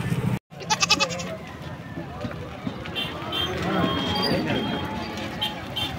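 Goats bleat at a busy Sunday livestock and bird market in Ranjitpur, Bahraich, as vehicles loaded with goats arrive for sale; a loud bleat opens amid a noisy crowd of voices and outdoor bustle.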